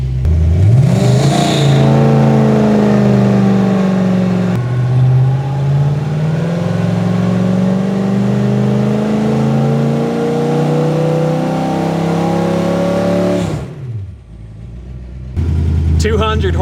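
A mystery 350 Buick V8 runs loaded on a dyno, its loud, steady engine roar climbing in pitch and holding high for several seconds before dropping off abruptly, then briefly picking up again.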